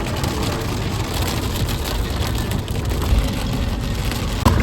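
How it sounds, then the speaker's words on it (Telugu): Steady rain drums on a car during a road journey, a dense continuous hiss close around the vehicle with engine rumble underneath and no talk. "వర్షం స్టార్ట్ అయింది"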